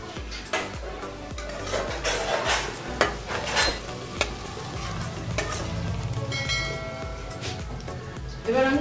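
Chopped onions sizzle in hot oil with sugar in a pan, frying until reddish while a utensil stirs them, sending out steady crackling with occasional scrapes and metallic clinks against the pan.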